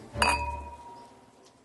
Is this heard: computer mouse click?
no